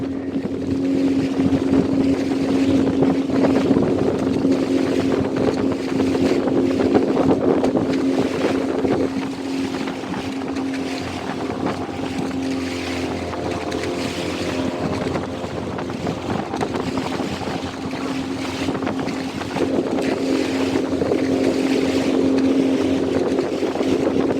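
A motorboat heading out to sea off Lovina beach in Bali to watch dolphins, its engine droning steadily and loudly throughout, with strong wind buffeting the microphone and no voices.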